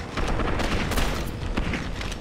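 Dense, loud volleys of gunfire in the Gotham City Impostors shooter, shots crackling in quick succession and overlapping throughout a short burst with no talk.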